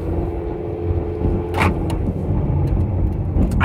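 A car driving home on the road, heard from inside the cabin as a steady low engine and road rumble with a brief hiss partway through, fairly loud and continuous.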